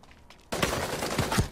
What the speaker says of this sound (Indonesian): Dari mana sih ini yang nembak?